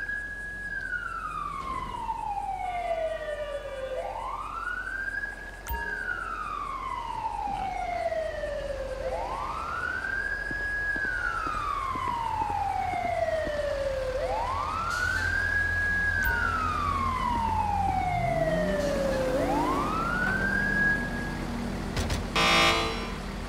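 A wailing ambulance siren in Grand Theft Auto V rises and falls in long repeated sweeps, loud and steady throughout, with a brief sharper burst near the end.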